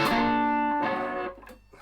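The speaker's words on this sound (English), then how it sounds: "stacking a box of distortion on it because it's a single pickup" Electric guitar with a single pickup and one volume control, played through a stacked distortion box: a loud sustained distorted chord rings and decays, followed by a second softer strum fading out, with no talking.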